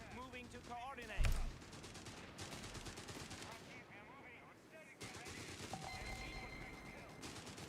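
MG-42 machine gun fire in the video game Company of Heroes: dense, rattling bursts among a busy wartime battle din, with soldiers' voices calling out over the shooting.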